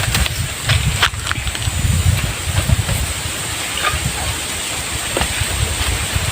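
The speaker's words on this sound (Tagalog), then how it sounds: "Medyo malakas ang hangin ngayon mga ka-hunter." Strong wind buffets and roars continuously with gusty rumbles and hiss, loud and close throughout, outdoors during a wild honey bee harvest.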